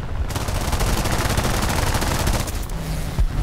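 Sustained rapid aircraft machine-gun fire in the War Thunder video game, a dense continuous burst of loud rattling shots that eases slightly near the end.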